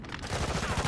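Rapid gunfire in a video game, a brief dense burst of overlapping shots heard loud and continuous, no talking.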